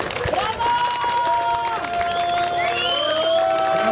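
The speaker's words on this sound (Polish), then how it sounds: "gorące brawa dla zdobywców pierwszych 3 miejsc dywizji trzeciej" Crowd cheering and applauding for the top three finishers of the third division at a hillclimb motorsport event in Załuż, with whoops and shouts over steady clapping, loud and continuous throughout.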